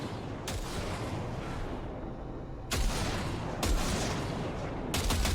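Gunfire at practice targets in the video game Cyberpunk 2077, a few sharp single shots spaced apart over a constant background rumble.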